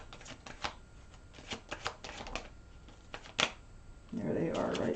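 Tarot cards being shuffled for a reading give a run of soft riffling snaps and taps, with a denser burst of shuffling toward the end, fairly close and quiet.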